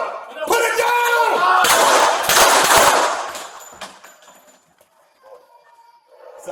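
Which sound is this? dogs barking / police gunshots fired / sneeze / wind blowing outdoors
police gunshots fired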